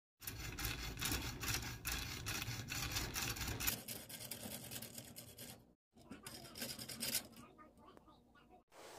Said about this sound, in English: There you go, I just finished cutting.